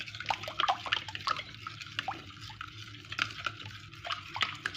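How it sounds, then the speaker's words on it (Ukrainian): A utensil stirs a wet khachapuri batter made with oil in a bowl, giving soft, squelching, irregular strokes up close. The sound is fairly quiet, with small clinks against the bowl and no speech. "І також перемішаю."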